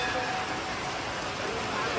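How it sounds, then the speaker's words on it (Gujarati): A steady, dense hiss of rain falling hard and continuously, loud and close, with no voices. "ધોધમાર વરસાદ આવ્યો"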